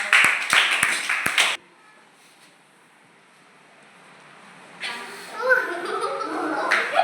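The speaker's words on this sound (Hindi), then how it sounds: "ताली बजाओ एक बार" A few sharp hand claps from children in a classroom tables-counting lesson ring out in quick succession, then give way to a quiet stretch before voices and room noise return.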